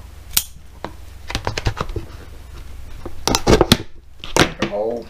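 Scissors snip into a large object for hydro dipping a Hot Wheels car, making a run of sharp, close clicks and cuts that build into a denser burst of cutting.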